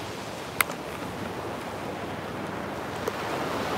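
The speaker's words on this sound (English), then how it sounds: "The wind's going nuts today." Strong wind roars steadily across the microphone in a broad, continuous rushing wash, with a couple of faint clicks and no voices.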